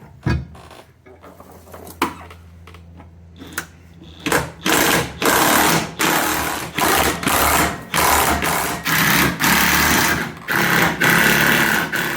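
A power tool drives bolts into a trailer hitch on a Volvo 245, first as a few short quiet bursts, then as loud repeated whirring runs with brief pauses between them.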